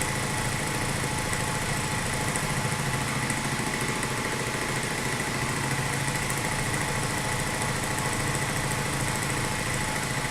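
Milling machine cutting a steel Kurt vise stop bracket down to depth, a steady continuous high-pitched motor whine with grinding cutter noise, close and constant throughout with no pauses and no talk.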